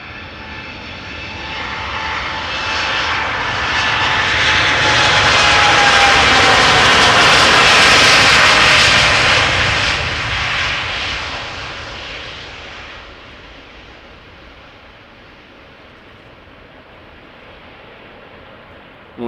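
A Belgian-registered Boeing 787-8 Dreamliner, eight years old, roars past at Amsterdam Schiphol with its jet engines swelling to a loud, broad peak midway before fading to a distant rumble.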